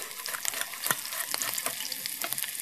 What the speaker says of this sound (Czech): Jako první dám ty brambory, aby se mi hezky opekly na barvu.